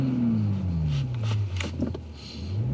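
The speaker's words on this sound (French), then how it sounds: "puis que vous entendez le son du moteur" Turbocharged 3-litre six-cylinder engine of a 2021 Toyota Supra heard from inside the car on a road drive: a steady low drone whose pitch falls, then rises again, with faint cabin noise and no talk.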